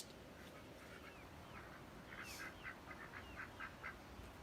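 Ducks quack faintly in the distance, with a run of short, evenly spaced calls in the second half over steady low background noise.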